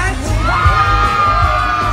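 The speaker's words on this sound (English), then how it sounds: "And the crowd goes wild." A crowd of children at a Disneyland holiday dance party shouting and cheering loudly, a dense, continuous roar of overlapping high voices.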